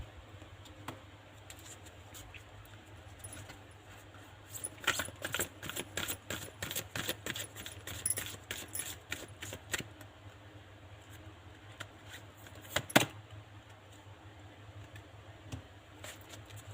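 Tarot cards drawn and handled in a quiet room, with a run of soft, scattered clicks and slaps in the middle and one sharper snap near the end.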